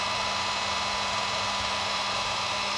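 A heat gun blows hot air over a basketball, giving a steady, close roar of rushing air with a faint constant motor hum and no pauses.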